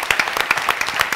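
An audience applauds at a book launch, a short burst of steady clapping from a modest crowd in a room.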